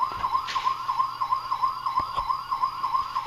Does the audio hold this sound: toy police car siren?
yes